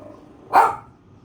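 One quick, high bark from a little dog rings out nearby, a lone burst that fades into near silence.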